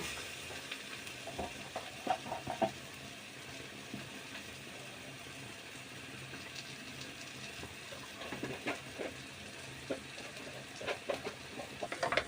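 Chicken parts and masala are sautéed in oil in a pan, giving a soft, steady sizzle broken by scattered scraping and stirring noises, with no talk.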